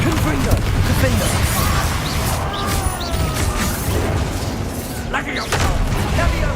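Booming fire-spell blasts from Hogwarts Legacy combat, dense crashing bursts that rumble through the whole stretch alongside busy game noise, with a voice talking over it.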